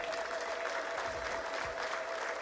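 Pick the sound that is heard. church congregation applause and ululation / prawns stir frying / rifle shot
church congregation applause and ululation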